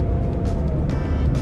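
Steady low road rumble and engine drone from inside a moving car, close and continuous, with faint brief sounds over it and no talk.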